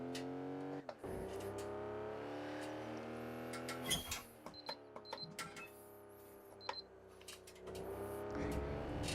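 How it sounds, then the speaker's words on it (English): Short electronic beeps of the downshift protection in an F4 race car, a few quick tones over the sustained engine drone and revs on a road circuit, with little talk. "That little beeping noise is me trying to downshift"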